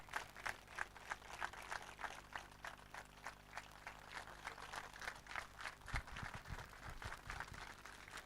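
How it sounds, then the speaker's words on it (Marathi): Audience applause at the opening ceremony of a cricket tournament event, a steady, faint patter of many hands clapping, distant and continuous with a few lower thumps toward the end. "भाषण लवकर संपवावं म्हणून या टाळ्या आहेत"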